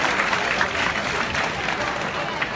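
Audience applause fills a seminar hall at Sanskar Bharti School in Surat during an education-in-Poland event: a steady, dense wash of clapping from a crowd that holds evenly throughout without letting up.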